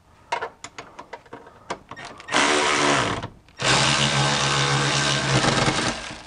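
Power tool driving subframe bolts on a BMW E46 during a differential swap: a string of short clicks and bursts, then two long, loud sustained whines of an impact or drill, close up, with no talk.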